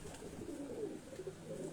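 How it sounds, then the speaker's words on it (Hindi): Pigeons with dyed feathers at a pigeon keeper's home, giving soft, low, repeated cooing, faint and steady throughout, with no talking. "खज़ाब वाले कबूतर"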